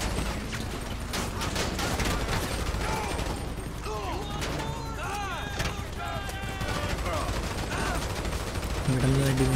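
Rapid bursts of video game gunfire crackle through a busy, dense mix during a shooting fight, with shots repeating steadily throughout and other game effects layered in.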